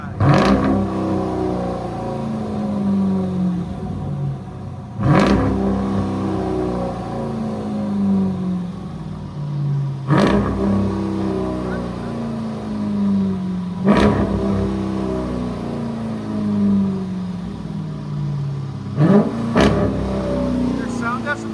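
Dodge Durango R/T with a 5.7L HEMI V8 and aftermarket exhaust revving repeatedly, sharp throttle blips roughly every five seconds over a steady loud idle, with voices talking nearby.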